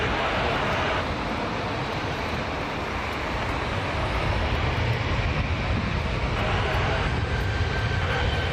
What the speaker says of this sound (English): SkyWest 5934 to Chicago O'Hare, Embraer 175.